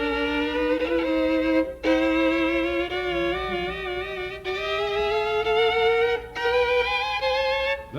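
A fiddle mimics an old log truck grinding its gears as it tries to get started, sustained bowed tones sliding and wavering in pitch with short breaks between phrases, played alone and close.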